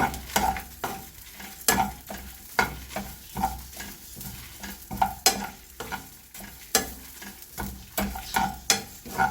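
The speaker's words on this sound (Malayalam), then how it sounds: "ചുവന്ന മുളക്, ഇത് കിടന്ന് വരട്ടെ" Red chillies fry in a hot pan, steady sizzling broken by a rhythmic run of stirring scrapes, roughly two per second, close and clear with no talk.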